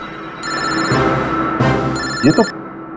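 A telephone rings loudly in two long electronic bursts with a short gap between them.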